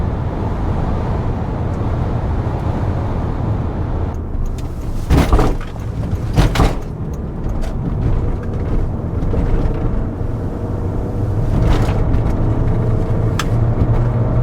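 Steady engine and road noise from a 2001 VW New Beetle 1.8 Turbo being driven, a constant low drone heard from inside the cabin, with a few sharp knocks and clicks over it.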